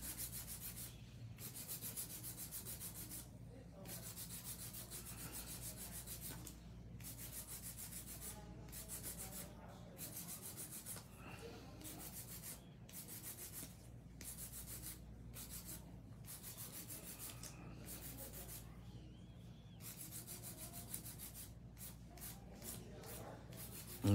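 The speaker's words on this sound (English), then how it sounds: "Now, just some quick hand filing before I use my cuticle bit." Steady, continuous rubbing of a hand file across fingernails, quick rasping strokes sounding close and fairly quiet over a low background hum, with frequent short breaks between strokes and no talking.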